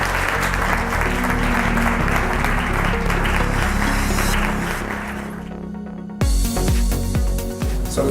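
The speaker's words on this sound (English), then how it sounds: "Let's give Arlan a round of applause." A live audience claps for guest speaker Arlan at an evening venture capital event in Atlanta, a dense, sustained round of applause that fades out near the end before a brief burst of other sound.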